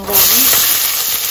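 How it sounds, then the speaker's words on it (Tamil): Onion and chilli hit hot oil in a pan in a home kitchen, a loud, close, steady hiss of frying that swells quickly and holds for the whole moment. "வெங்காயம் மிளகாய் போட்டாச்சு."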